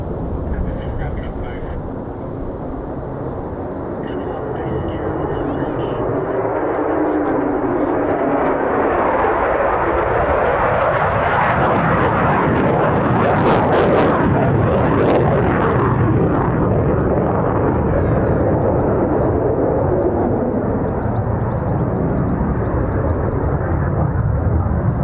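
F-35 fighter jet performing a quick climb at an RAF airshow, a loud, sustained broadband engine roar that builds and holds steady for the whole stretch, with talk over it early on.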